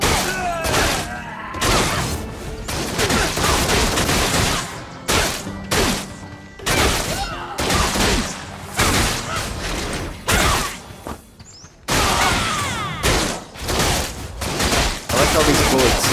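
Video game gunfire in rapid, dense bursts of shots and automatic fire that nearly fill the clip, loud and close, broken by a few short pauses, with a voice talking over part of it.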